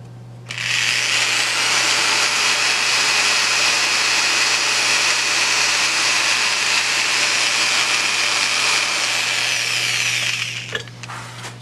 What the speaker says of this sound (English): we'll drill the hole